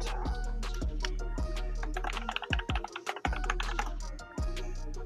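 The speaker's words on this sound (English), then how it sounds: "we're going to get this plugged in and see if we can do a keyboard test" A custom-built mechanical keyboard being typed on, crisp clacky keystrokes landing in uneven bursts, close and loud over a low steady hum.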